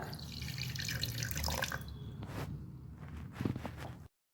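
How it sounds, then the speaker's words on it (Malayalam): Blended orange juice is poured back into a mixer jar, a close liquid splash and trickle that fades after a couple of seconds into a few faint drips and light clatter before ending abruptly. "അടിച്ചെടുത്ത ജ്യൂസ് ഇനി മിക്സിയുടെ ജാറിലേക്ക് തന്നെ തിരിച്ചൊഴിച്ചു കൊടുക്കുക."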